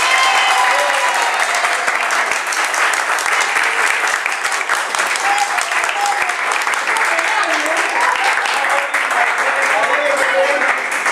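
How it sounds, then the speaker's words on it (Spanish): An audience applauds at a New Year event, a dense, loud, continuous burst of clapping from a crowd that holds steady from start to finish. "Un aplauso para Faría, a ver si va a ganar."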